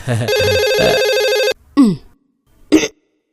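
A telephone rings in one long electronic trill of about a second and a half, loud and close, followed by a couple of short throaty sounds like coughs or throat clearing.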